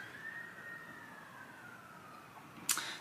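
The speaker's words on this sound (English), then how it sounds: "there's a bunch of ambulances driving by because I live close to a freeway" Ambulance sirens pass on a nearby freeway, a thin steady wail sliding slowly downward, faint and distant against a soft background hiss, with a brief sharp knock near the end.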